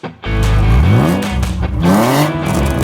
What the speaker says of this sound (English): Gotta love the sound of a nice, smooth BMW straight six.